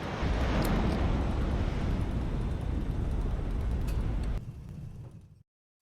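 A plane in the naval strategy game HighFleet roars in a loud, broad rumble that holds steady, then drops off sharply and cuts to silence near the end.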